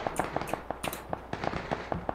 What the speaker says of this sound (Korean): 지금도 총소리 들리고 있거든요.